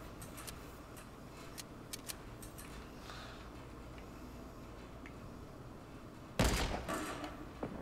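Gunfire in the video game Fortnite: a quiet stretch with faint clicks and taps, then a sudden loud, sharp burst near the end that decays into rough, crackling noise.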